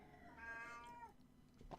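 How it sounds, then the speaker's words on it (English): A cat lets out a single drawn-out meow that bends downward, close but very quiet, followed by a brief faint rustle. "Cat, shush."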